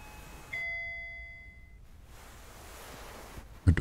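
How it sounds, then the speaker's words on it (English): A single electronic doorbell chime rings clearly in a quiet home, a bright tone that sustains for about a second before fading into near silence, followed by a brief rustling thump. "Our doorbell's ringing."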